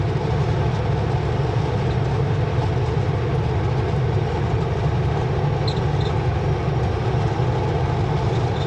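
A truck engine drones at full throttle on a highway, a loud steady low rumble with road noise heard from inside the cab, continuous and without talk.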